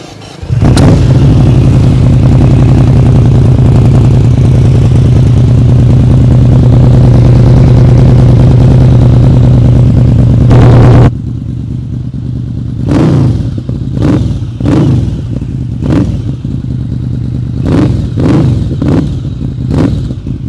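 A Yamaha VMAX 1700cc motorcycle starts up in a residential area and runs at a loud, rumbling idle for about ten seconds, then drops quieter with a series of short, sharp throttle blips.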